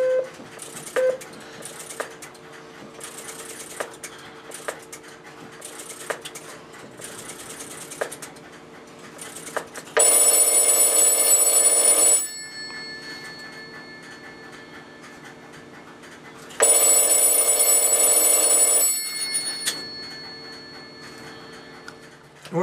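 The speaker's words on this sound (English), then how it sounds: "One more call and I will select the 50 Hertz ringing pattern." Steady clicking and ticking of a North Electric CX 100 all-relay telephone switch, interrupted twice by a loud, harsh buzzing 50 Hertz ringing tone lasting a couple of seconds each time.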